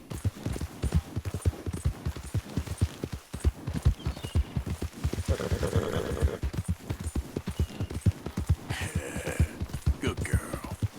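Horse in Red Dead Redemption trotting around a camp, giving a steady, fairly loud rhythmic clip-clop of hooves throughout, with a brief whinny-like sound near the end.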